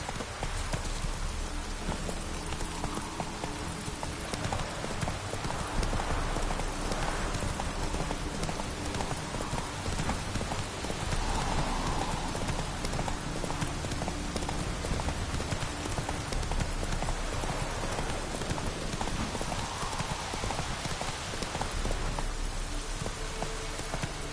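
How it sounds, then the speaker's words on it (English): A heavy downpour of rain in a video game makes a dense, steady hiss for the whole stretch, with a rhythmic clopping like hooves moving under it. "This downpour's a bastard, it is."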